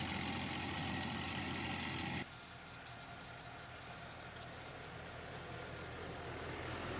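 A tractor engine runs steadily while mowing grass, a loud, dense rumble that drops to a somewhat quieter, even drone about two seconds in and then holds.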